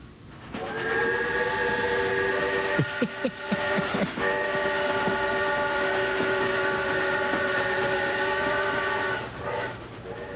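A large-scale toy model train decorated for Christmas rumbles along while its horn sounds a steady multi-tone chord for several seconds, with a few clacking bursts near the start, loud and close.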